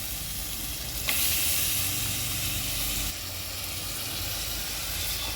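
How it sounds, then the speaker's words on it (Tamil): Goat intestine drops into a pan of oil-separated onion-tomato masala and sizzles, a steady frying hiss that jumps louder at the addition and continues with stirring. "குடல் கறியை எடுத்து போட்டுக்குவோம்."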